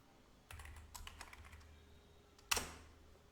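Typing on a computer keyboard while saving a web server configuration file, a few soft scattered key presses followed by one sharper, louder keystroke, close and quiet with no talking.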